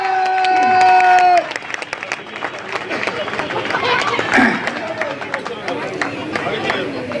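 A crowd applauds at a marathon prize ceremony in Maheshtala as the champion is garlanded; a voice speaks briefly at first, then dense, steady clapping with cheering fills the rest.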